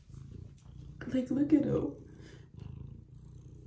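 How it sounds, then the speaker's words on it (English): A cat purrs close up in a steady, soft rhythmic rumble, with someone talking briefly over it partway through. "He's purring the whole time."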